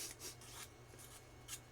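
Sandpaper scrapes in several separate rubbing strokes, a short gritty rasp repeating at uneven intervals against a quiet background.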